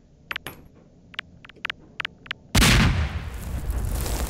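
A grenade blast in the Garry's Mod video game: a few sharp clicks, then one loud, close, booming explosion that stays heavy and decays slowly into a noisy rumble.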